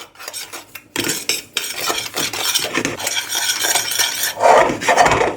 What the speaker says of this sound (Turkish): Kakaoyu, şekeri onu karıştırıyorum